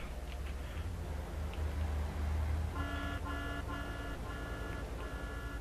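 A car horn honks in the video game Grand Theft Auto III, with a few short toots and then repeated bursts over road traffic noise. The horn is moderately loud and there is no talking.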